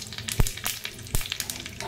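Mustard seeds, sesame seeds and curry leaves sizzling in hot tempering oil for khandvi, a close crackling fry with sharp pops and spits over a brief span.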